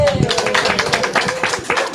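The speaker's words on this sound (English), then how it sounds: "that's an applause" Audience applause at an evening candidates' forum for the Pāpāmoa Ward council election in Tauranga, a steady spread of many hands clapping for about two seconds, with a faint voice over it at the start.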